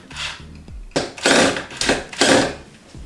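A power drill whirs in two or three short bursts after a brief quiet moment, fairly close and moderately loud, drilling into a bed frame in a studio apartment.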